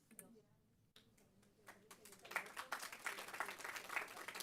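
At a county board of supervisors meeting, a room begins to clap: faint voices come first, then soft, scattered claps build into steadier applause. The sound stays fairly distant and quiet.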